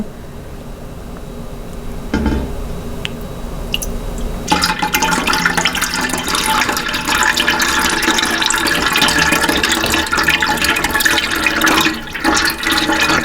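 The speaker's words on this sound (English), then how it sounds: "we're going to pour the lye on the shaft of the stick blender." Lye solution pours steadily and noisily into oil for soap making for several seconds, a continuous splashing rush with a brief dip near the end, no talking.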